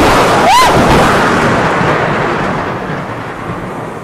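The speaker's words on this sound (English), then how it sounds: "We've had some awesome thunder and lightning out there" Thunder rolling during a tropical rainstorm in Costa Rica, a loud deep rumble that slowly fades over a few seconds, with a brief high whistling tone near the start.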